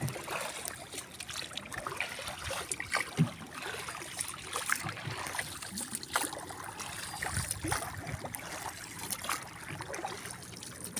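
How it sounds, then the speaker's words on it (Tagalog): A small wooden outrigger boat (bangka) cuts through the sea on a fine day near a white-sand shore with houses, giving a steady, close wash of splashing and churning water with no voices. "Bangka lang kami guys, oh,"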